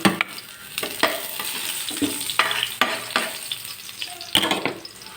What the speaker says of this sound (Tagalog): Magigisa na tayo ng bawang.